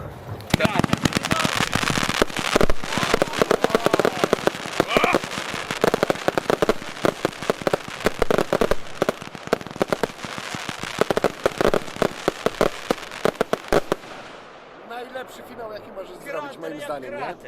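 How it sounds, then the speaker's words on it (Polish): Rapid bursts of fireworks crackle and pop in dense, loud volleys for a long stretch at a pyrotechnics company display, then give way to voices talking. "Gdzie są fajerwerki?"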